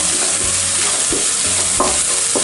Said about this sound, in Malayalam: ഇപ്പം എണ്ണയിൽ നല്ലോണം പൊരിഞ്ഞ് വരുന്നുണ്ട്.